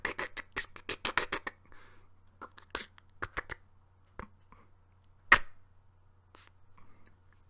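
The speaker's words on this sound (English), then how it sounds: "And that was the sound of picking a lock." A lock being picked gives a sparse series of small, sharp metallic clicks and scrapes, quick bursts followed by scattered single ticks, close and fairly quiet over a low steady hum.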